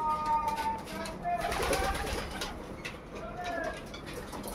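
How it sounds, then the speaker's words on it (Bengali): Racing homer pigeons coo softly in a loft, a steady low murmur of several birds with some background noise throughout. "দেখুন এগুলো আমার সব রেসিং হোমার পায়রা।"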